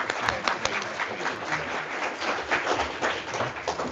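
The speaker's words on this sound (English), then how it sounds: "please join me in giving our panelists a round of applause" An audience at a US-Taiwan relations symposium applauds its panelists, a dense steady round of clapping from a roomful of people lasting a few seconds.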